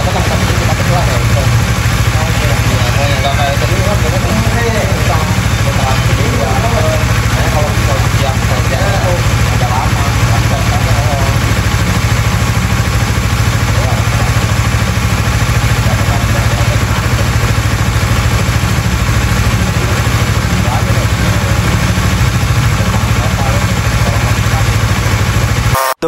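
A motorcycle engine idles steadily and loudly with its thermostat removed, running hot toward overheating; the dense, constant drone fills the whole stretch, with a voice talking over it.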